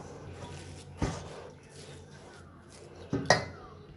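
Rava semolina and jaggery stirred together in a pan, with a spoon knocking and clinking against the metal a few times over an otherwise quiet background.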